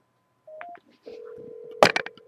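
Telephone keypad dialing tones, a few short beeps followed by a sustained tone, then a burst of noisy clatter near the end, quiet and close.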